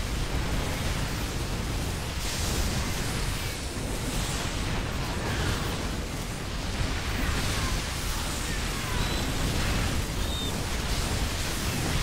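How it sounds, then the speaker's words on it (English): A StarCraft II match with bunkers, siege tanks and Locusts fills the air with dense, continuous explosion rumble and crackling bursts, loud and steady throughout with no talk. "a lot of explosions"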